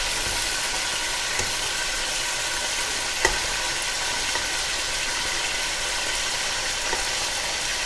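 Pork pieces brown in a hot pan for a Greek pork stew, giving a steady, even sizzle and frying hiss throughout, with a couple of faint clinks and no talking.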